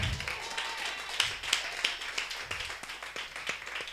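Congregation clapping in acclamation of the Lord at a French-language prophetic church service, a few sharp, loud claps rising over a continuous murmuring crowd.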